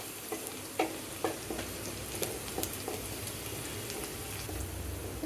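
Chopped garlic frying in a pan before greens go in, heard as a continuous close sizzle with scattered pops and occasional stirring scrapes, no voices.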